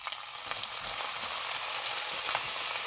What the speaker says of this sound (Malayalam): അപ്പം നമുക്ക് എണ്ണ ചൂടായിട്ടുണ്ട്. നമുക്ക് ഇതിലേക്ക് മാരിനേറ്റ് ചെയ്ത ബീഫ് ഇട്ട് കൊടുക്കാം.